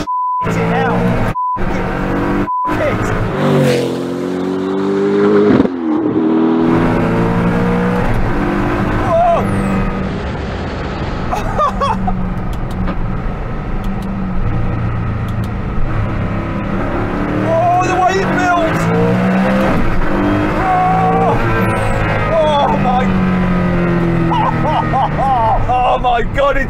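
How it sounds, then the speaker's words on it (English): Hennessey Venom supercar accelerating hard through the gears, engine note climbing in rising sweeps with jolty gear changes between them, heard from inside the car under excited talk. "Oh my god, it's so raw! Yeah, the power just builds. When you change gear, it's a bit jolty."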